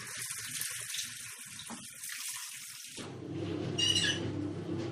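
Water pours into an old 1950s-style washing machine, a gushing splash that stops abruptly partway and gives way to a lower running rumble, with a brief squeal near the end.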